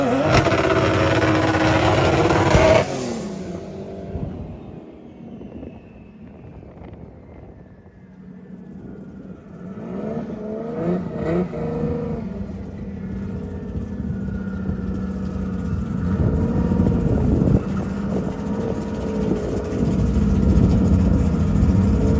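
A 2JZ-swapped FRS street car on a drag strip roars loudly at first, drops away, then builds again through rising engine pulls that grow louder toward the end.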